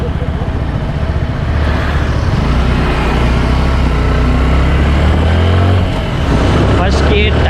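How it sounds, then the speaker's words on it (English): A Suzuki Gixxer SF 150 BS6 motorcycle engine revving under throttle, a loud continuous drone whose pitch holds steady and then climbs toward the end, with speech-like sounds mixed in. "So again, let's give a throttle."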